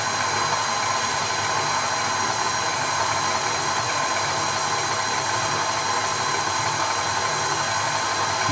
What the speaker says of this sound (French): Si vous le faites au robot, on commence à petite vitesse et on met au fur et à mesure